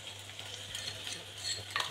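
Garlic paste with green chilies frying in a pan for spicy Khandeshi egg bhurji, a steady soft sizzle with light stirring scrapes, close and continuous without speech.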